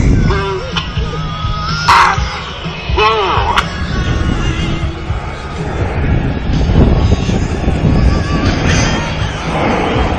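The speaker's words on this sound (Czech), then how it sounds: "letouny nám teď udělají velký šíp a poletí do výšky" Military jets fly a formation display at a NATO Days airshow, a steady broad engine roar filling the scene with rising whooshes as they pass, while a commentator's voice carries over a public address system.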